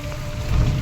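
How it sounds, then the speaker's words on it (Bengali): Rain pours on the lanes of Vrindavan, heard from a tuk-tuk as a dense, steady hiss of drops on surfaces. It swells slightly toward the end of the brief moment, with no talk. "বৃষ্টি বৃষ্টি,"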